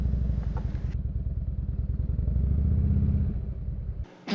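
A motorcycle rolls along curvy small-town country roads, its engine a steady, close, throbbing drone with a brief drop near the end.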